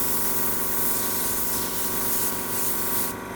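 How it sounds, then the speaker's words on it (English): Airbrush spraying ink with the trigger barely pulled back, a steady close hiss with slight sputtering, continuous and even until it cuts off at the end. "it's still sputtering a little bit of extra ink. That's me barely pulling back the trigger."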